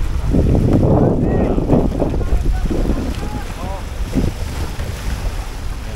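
Motorboat engine rumbling steadily over Laguna lake water with gusty wind noise, faint voices and a distant shout mixed in.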